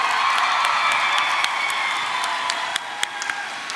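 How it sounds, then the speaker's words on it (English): Sustained applause from a large graduation ceremony crowd, dense steady clapping with scattered whoops and cheers, filling the hall throughout. "give them a round of applause"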